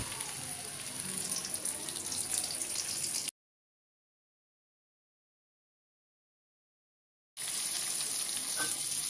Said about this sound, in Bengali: টুকরাগুলোকে ভেজে নেব সোনালি করে।